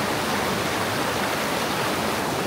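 A strong river current rushes in a dense, loud, unbroken roar of broadband water noise, close and steady throughout, with no voices.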